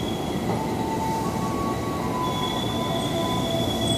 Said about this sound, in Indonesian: ini adalah KRL yang ke Parung Panjang.